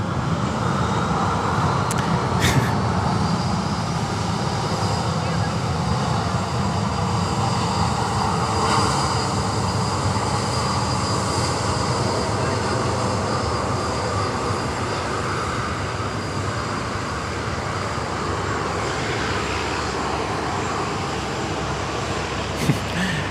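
Aircraft taxiing at Sydney Airport, a continuous low, broad jet-engine rumble and whine at a distance, steady throughout with slight swells and no talking.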